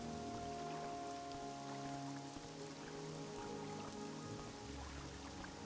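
Steady rain falls in modded Morrowind, a continuous hiss of drops pattering on surfaces with faint low ambient hum underneath, unbroken and even throughout.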